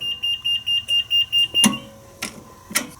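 An elevator fire service beeper on a Southern button panel gives a rapid series of about eight loud, even high-pitched beeps, followed by a few sharp clicks and knocks from the panel.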